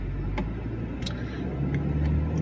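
A car is driving along a road, a steady low engine and tyre rumble heard from inside, with a few faint clicks and no speech.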